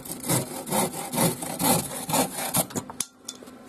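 Close, rhythmic back-and-forth strokes of a handsaw cutting through wood, about a dozen rasping pulls that end abruptly as the piece comes free.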